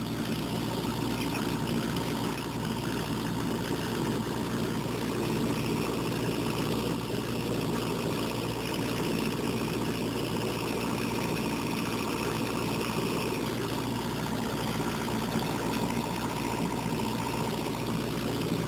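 A Hayden two-speed cooling fan runs in a steady, even whir, moderately faint, with a constant low hum and airy hiss that barely changes over a long stretch. No voices are heard.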